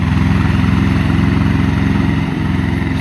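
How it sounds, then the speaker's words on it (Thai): An Iseki TS2200 two-cylinder, 22-horsepower tractor engine idles steadily and loudly with a low, even chugging throughout, dipping briefly near the end. "เครื่องยนต์สองสูบยี่สองแรงฮะ"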